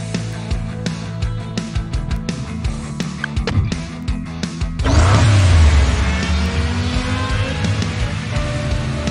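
Car engine roaring and revving in the Hot Wheels Unlimited racing game, loud and steady, with a sharp surge of engine noise partway through that carries on to the end; no talking.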